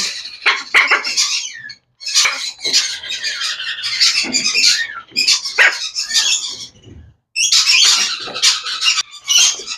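An Amazon parrot at a bird market lets out loud, harsh squawks in repeated bursts, close by, with short gaps between calls.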